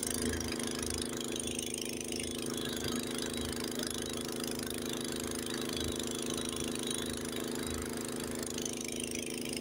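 A Honda HS80 snowblower engine runs steadily during a snowstorm at Lake Tahoe, a continuous close mechanical drone with a constant pulsing hum and no talking.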